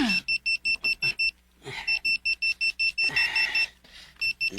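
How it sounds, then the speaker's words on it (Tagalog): A clock alarm at 3 a.m. goes off in bursts of quick, bright beeps repeating in steady groups with short pauses, with a voice briefly heard between bursts. "Nagtingog na ng alarm ni mo oh."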